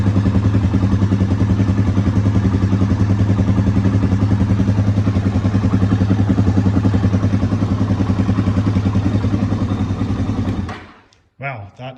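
A Suzuki DRZ400 motorcycle engine running steadily without choke after a carburetor rebuild, a loud, close, even rhythmic thump that holds for about ten seconds before abruptly cutting off, leaving faint clicks.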